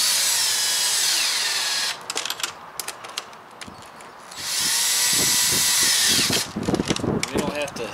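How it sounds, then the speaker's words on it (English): A power drill on a slow setting whines in two sustained bursts, driving screws into an RV front-window stone guard, separated and followed by clattering handling noises and brief talk. "take our drill, slow setting, and just set that on there and drive these home"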